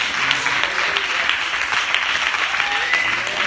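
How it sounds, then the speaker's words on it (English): A church congregation claps hands together in steady, dense applause that fills the room throughout, with no voices standing out. "Somebody clap your hands for the Lord."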